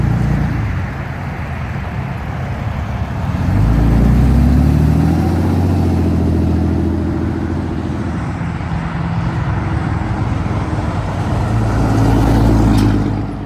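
A white Dodge truck out on a test drive after a transmission repair gives a steady droning engine hum from inside the cab, with a swell as it accelerates and shifts and no voices.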